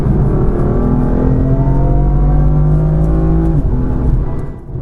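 A BMW M4 F82 with the S55 engine accelerates hard, its loud, steady engine note climbing in rising harmonics for several seconds before easing off at the end, heard close from inside the car with no talking.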